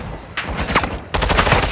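Video game gunfire in two short, loud rapid-fire bursts, with a brief pause between them.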